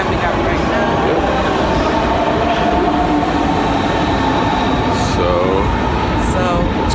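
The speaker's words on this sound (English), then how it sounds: "this is our train coming up right now" A train pulls into Berlin Friedrichstraße station, loud and close, with a continuous rumble, rattling wheels and faint squeals as it arrives, while voices talk nearby.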